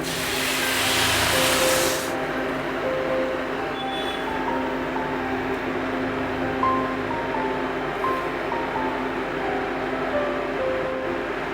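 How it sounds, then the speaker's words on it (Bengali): Boiled coconut milk and water spiced with garam masala pour into rice frying in a pan for prawn pulao, a loud rushing splash for about two seconds, then a steady sizzling bubble that carries on. "চালটা সামান্য ভাজা হয়ে আসলে এর মধ্যে আমি যে নারকেলের দুধ আর জলটা যে ফুটিয়ে রেখেছিলাম সেটা এর মধ্যে দিয়ে দেব।"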